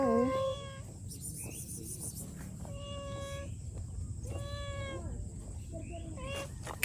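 A cat meows repeatedly outdoors at a hillside camping spot in Tanay, Rizal, several clear calls spaced across the clip over steady background noise, with a person coaxing it nearby.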